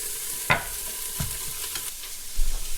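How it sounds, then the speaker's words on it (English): Onions, garlic and carrots fry in an Instant Pot, a soft steady sizzle with a utensil scraping and knocking against the pot in a few brief strokes; no talking. "We're going to do a little stirring around."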